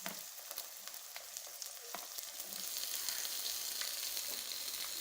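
Tomatoes frying in a pan with onion and garlic-ginger paste, a steady close sizzle with scattered pops and stirring clicks that grows a little denser and louder partway through.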